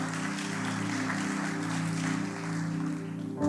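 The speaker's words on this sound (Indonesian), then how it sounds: "Kita beri tepuk tangan yang meriah untuk Allah kita." A church congregation claps together in a brief, steady burst of applause, filling the room over a low hum with no talking.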